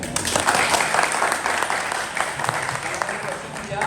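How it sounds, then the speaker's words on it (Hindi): An audience at a college welcome party for chemistry students claps in a lively, uneven burst, loud and close, with voices mixed into the applause. "इसके लिए तालियां बजाइए।"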